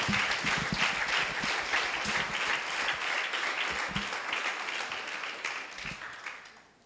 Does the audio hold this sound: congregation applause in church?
yes